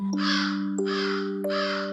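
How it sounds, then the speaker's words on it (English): A crow caws three times in a steady, evenly spaced sequence, each call loud and close over a faint background hum. "It caws happily as it flies over spooky houses and glowing"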